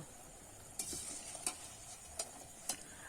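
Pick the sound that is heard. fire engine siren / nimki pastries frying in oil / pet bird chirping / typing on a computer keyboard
nimki pastries frying in oil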